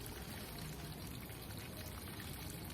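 Running water rinsing freshly harvested coffee cherries: a steady, close, noisy pour and splash that continues without a break and without talking.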